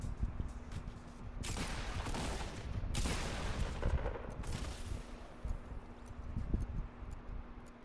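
A blue pump shotgun fires in a video game, a few heavy, widely spaced blasts standing out over a steady background of game noise and distant clatter.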